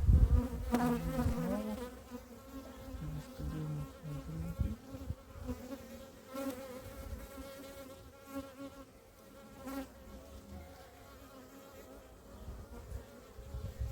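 Dense, steady buzzing of a honeybee colony in a swarming state as hive frames are lifted and handled, loud and close throughout with occasional louder surges, no talk.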